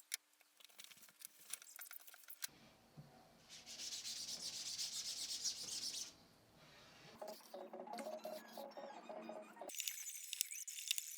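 A squeegee is pulled across a screen-printing screen with a paper-label stencil stuck to its underside, making quiet, close rubbing and scraping strokes in several separate passes, with short pauses and small handling clicks between them.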